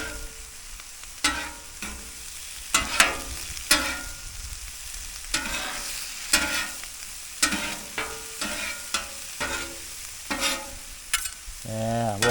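Spinach and garlic stirred and sizzling on a flat-top griddle, with a steady frying hiss broken by repeated scraping strokes of a spatula, close and fairly loud, with no talking.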